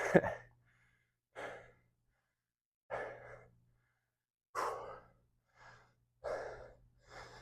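Someone recovering from a set of a leg day workout breathes heavily, with six loud gasping exhales spaced a second or so apart and silence between them.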